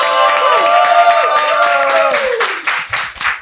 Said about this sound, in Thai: ขอเสียงปรบมือคอมิกคนแรกของเราครับ